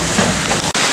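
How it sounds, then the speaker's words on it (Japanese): Heavy rain falls at night in Kobe, a dense, loud, steady hiss of rain on the ground nearby, with a brief dropout near the end. "雨がですね、なかなか強く降っているわけで"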